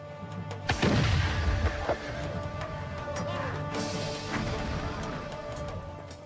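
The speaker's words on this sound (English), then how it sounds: "braced for the greatest bombardment the history of warfare had ever known" Heavy artillery fire pounds the walls of Constantinople during the Ottoman siege, with a deep booming blast near the start followed by rumbling impacts and continuous low, thundering bombardment under a dramatic musical drone.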